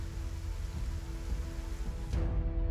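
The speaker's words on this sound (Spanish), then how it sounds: "La lluvia cae en el campo de batalla toda la noche." Rain falls through the night on a battlefield at Sekigahara as a steady, dense low rushing wash with a faint hum, continuous and even throughout.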